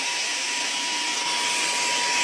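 A mini handheld vacuum cleaner runs continuously with a loud, high-pitched whine and airy rush, steady throughout with no talk.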